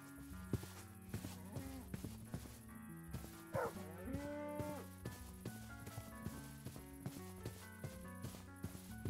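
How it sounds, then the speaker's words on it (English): Cows mooing in the Minecraft video game, several low drawn-out moos rising over a steady backdrop of game music and ambient effects, with no talking. "Okay, cows."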